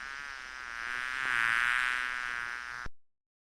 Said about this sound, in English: queen bee